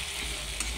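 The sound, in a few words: spice masala frying in oil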